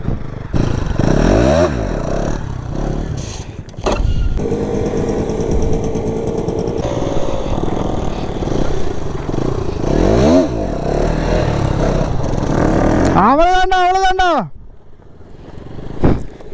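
A stock KTM NS 200 motorcycle at wheelie practice produces loud, close engine noise with rough idling and throttle blips. A sharp rev climbs and falls near the end before the engine drops to a low idle.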